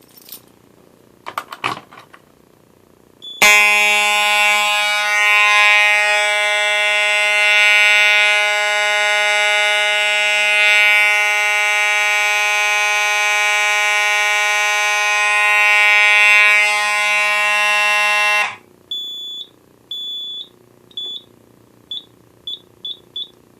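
A fire alarm horn on a building's Zone 2 system, tied to a strobe, blares loud and continuous for about fifteen seconds after a few clicks, then stops, followed by short intermittent beeps from the panel.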